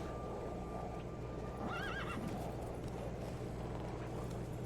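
A horse in the video game The Witcher 3 whinnies briefly over steady clip-clopping hooves and a low ambient hum, fairly close and clear.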